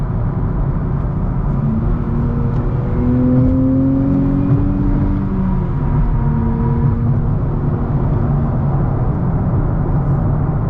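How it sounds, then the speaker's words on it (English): Inside a new Nissan Z cruising at highway speed on I-95, a loud, steady cabin drone of road and engine noise carries on throughout, with faint whirring tones rising and falling and no talking. "So cruising here in highway speeds, what can I tell you? It's a little noisy in here."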